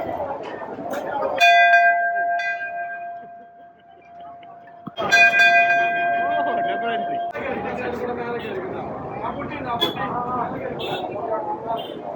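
Two separate strikes of a bell, each ringing out with a clear, sustained metallic tone that slowly decays, while people talk and murmur in the background throughout.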